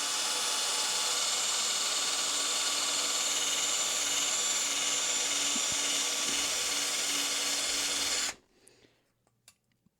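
A power drill whines loudly and steadily while boring holes for a crossbow, then stops abruptly, leaving a few faint knocks.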